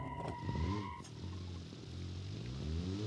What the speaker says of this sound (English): tiniest little bit of throttle and we spun out